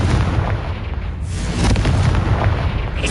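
A Confringo fire spell detonating in Hogwarts Legacy, a loud, dense burst of explosive roar that swells again partway through and rumbles on for a few seconds, filling the foreground alone.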